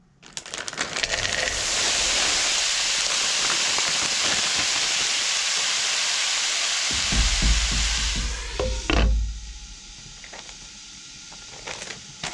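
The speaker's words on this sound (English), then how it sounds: "So we're gonna cook this paella from frozen right out of the bag over high heat, covered with a lid for about 4 minutes" Frozen Trader Joe's seafood paella hits a pan over high heat and erupts into a loud, steady crackling sizzle that holds for several seconds, then some clattering and bumps as it dies back to a softer hiss.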